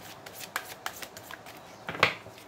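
Tarot and oracle cards are shuffled by hand at close range, giving soft papery riffles and taps with a sharper flick near the end.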